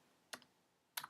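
Two sharp computer keyboard key clicks, spaced apart with quiet between, close and clear with no voices.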